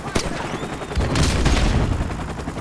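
Dense gunfire in an online multiplayer match of Modern Warfare Remastered on PS4, a sharp shot followed by sustained loud rattling bursts and booms over a continuous roar, with a voice faintly mixed in.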